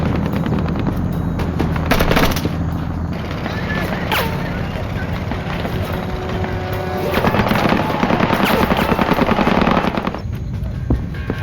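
Machine-gun fire rattles continuously through a Vietnam War battle reenactment of the Lang Vei siege, with dense, loud bursts and booms filling the scene and voices shouting amid the firefight.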